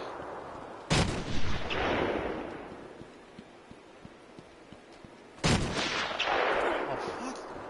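Two loud, sharp gunshot blasts from snipers in Batman: Arkham Asylum, about four and a half seconds apart, each followed by a long rumbling decay, with no voices.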